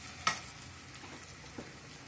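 Browned ingredients for a spinach fry sizzle softly in a pan. A sharp metallic clink comes early, and a light scrape of stirring follows later against the faint, even frying hiss.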